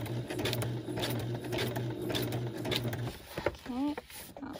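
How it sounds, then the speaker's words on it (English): A sewing machine stitches through a handmade junk journal, its steady mechanical whir running continuously for about three seconds before stopping, followed by a brief vocal sound nearby. "my sewing machine isn't perpendicular to me"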